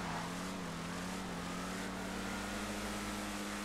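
A car engine in GTA V drones and revs steadily at a constant pitch after the gas pedal is pressed by accident, fairly quiet, with no talking.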